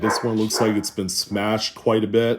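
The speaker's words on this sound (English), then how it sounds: "Sorry, that's my dog." A dog at home barks in a run of loud, close yips and bow-wows, about six sharp barks in quick succession, under and between someone talking.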